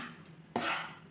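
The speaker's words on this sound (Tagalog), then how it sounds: "Naka-ready na yung chicken, i-cut-cut ko na guys." A knife chops raw chicken for Iranian lobia with a couple of quick, close strokes on a board, the second sharper and louder, with no talking.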